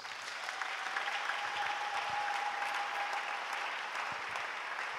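A church congregation applauds in acclaim of Jesus with steady, dense clapping that holds evenly throughout, filling the hall without a break.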